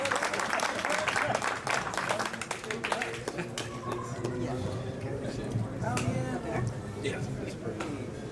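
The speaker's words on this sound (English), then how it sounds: "Big round of applause" Audience at an outdoor opening celebration on Clarion Alley claps to welcome artist Chris Gazaleh, a dense burst of applause that gradually thins, with voices talking and cheering beneath it.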